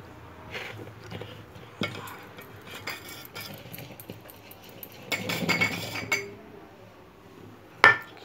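Birthday cake batter is mixed by hand in a bowl, with soft scraping and stirring punctuated by light clinks of utensil against dish, close up and fairly quiet, with one sharp knock near the end.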